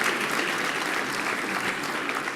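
Audience applause fills a hall at the Museum of the African Diaspora's Afropolitan Ball: a loud, continuous wash of many hands clapping together, close and sustained throughout.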